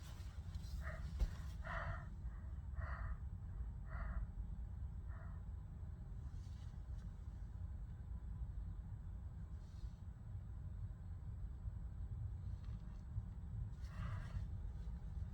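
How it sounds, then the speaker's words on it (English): Someone blows their nose in a series of short, snuffly bursts, then a few more spaced-out blows, all quiet and close. "Excuse me for blowing my nose on camera,"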